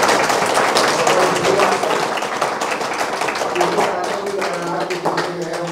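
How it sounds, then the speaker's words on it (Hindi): Audience applause at a national yoga contest event, a dense, steady patter of many hands clapping in a hall, with a voice speaking through the later part. "एक बार जोरदार ताली आप लोग"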